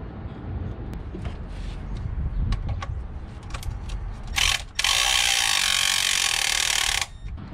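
A ratchet works a nut loose on a car's ignition coil pack, giving a string of quick clicks followed by a longer, dense burst of ratcheting near the end, close and alone.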